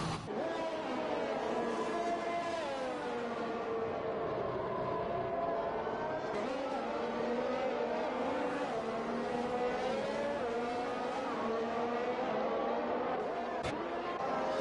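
Formula 1 race cars in the F1 2021 game at the Brazil circuit, a steady layered engine whine with shifting pitch running continuously throughout, heard under commentary.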